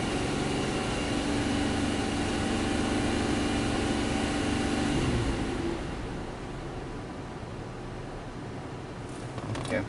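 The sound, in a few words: 2005 Cadillac CTS engine misfiring, revved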